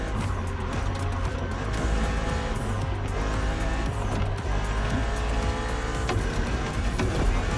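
A BMW Z4 E89 coupe cabriolet driving in The Crew Motorfest: a steady, continuous engine drone with tire noise, held at an even level throughout and heard alone.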